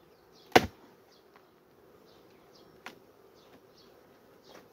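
Aggressive Carpathian honey bees buzz around a hive, with one sharp close fly-by near the start and fainter passes later over a low, steady hum.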